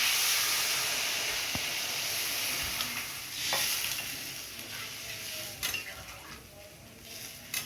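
Water hits a sizzling pan of potato curry (aloo dum) in oil, giving a close, loud hiss that eases off, with stirring scrapes and a few sharp clinks of utensils against the pot.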